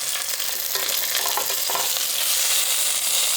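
Lamb shanks searing in a hot pan give off a bright, steady sizzle and crackle with faint spatter, close and constant, with no talking.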